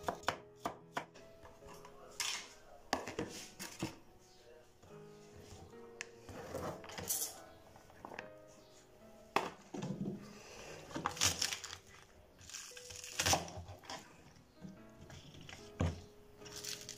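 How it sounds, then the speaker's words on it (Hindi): Carrots, capsicum, cabbage and spring onion are julienned with a knife on a board, giving close, irregular bursts of quick taps and thunks with short pauses between them. "सो ये इस तरह से मैं तमाम जो वेजिटेबल्स हैं मेरी उनको कर रही हूँ जूलियन, जिसमें कैरेट्स हैं, शिमला मिर्च है, बंद गोभी है और हरी प्याज है"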